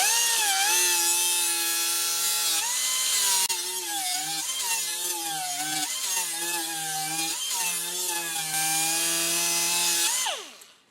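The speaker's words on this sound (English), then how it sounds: "Still not quite as sharp as I want, so I'm going to fine tune it with my sanding disc." A power tool with a sanding disc whines with a steady, high-pitched drone as it grinds a steel Ariens Ikon mower blade, the pitch dipping repeatedly under load before the motor winds down.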